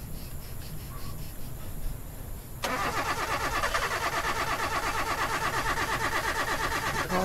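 A car engine in a video game cranks but fails to start, kicking in abruptly as a loud, steady mechanical drone with a rapid pulsing rhythm after a quieter stretch of low ambient noise.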